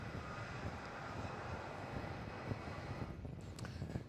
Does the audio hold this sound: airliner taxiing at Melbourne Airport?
yes